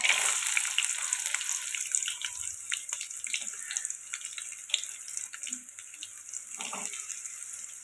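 Green chillies and onions hit hot oil in a pan for chicken curry, giving a steady bright sizzle that runs the whole time. Small crackles and pops come through with no voices.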